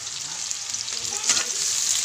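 Onions fry in hot oil with garlic in a pan for a dal and spinach saag, giving a dense, steady close sizzle with a brief louder crackle of stirring midway, and no voices.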